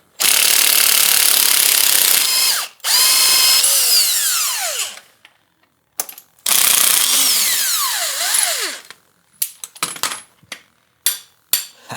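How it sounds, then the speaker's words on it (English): A power tool works on the swing arm bolt of a long-abandoned Yamaha Tri-Z 250, letting out loud, close whirring bursts that rise and fall in pitch, separated by short pauses and then a run of brief spurts. "Let's see if we can get the swing arm bolt out of here."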